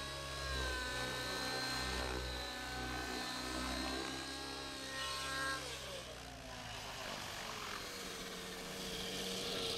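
A radio-controlled helicopter performs aileron flips, its rotor producing a steady buzzing whine that surges and wavers with each flip, moderately distant and fairly faint, with no talking.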